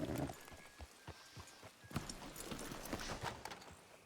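Horse hooves clip-clopping at a steady walking rhythm in Red Dead, close and moderately loud, with a brief whinny-like tone early on and no talk over it.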